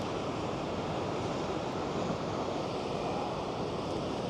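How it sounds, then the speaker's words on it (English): Ocean waves roll into a bay at Callao Salvaje, heard as a steady, dense roar of surf with wind noise mixed in. The sound holds constant and fairly loud with no distinct breaks between waves. "As you see the waves coming in."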